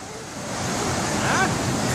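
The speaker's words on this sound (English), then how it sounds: "look at that big wave coming to Matt's butt" A big ocean wave rolls in and breaks on a beach, its hiss and rumble swelling steadily louder and closer, with faint voices beneath.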